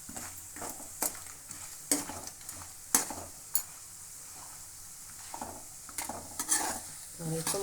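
Puliyogare mix roasting in a pan, an even sizzle under frequent scraping and clinking stirs of a utensil against metal, close and fairly loud, without talk.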